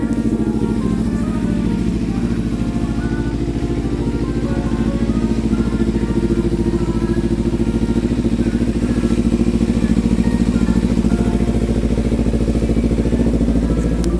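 A 2014 Kawasaki Ninja 300 ABS motorcycle engine running at a steady idle nearby, an even, unbroken mechanical hum and rattle lasting the whole stretch with no talking.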